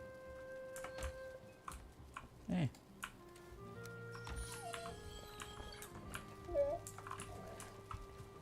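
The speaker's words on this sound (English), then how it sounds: "My dog is very vocal. He likes to yell at us." A vocal pet dog whines and yips in short, high, wavering cries, several bursts spread over a few seconds, close by amid soft room noise with occasional people talking.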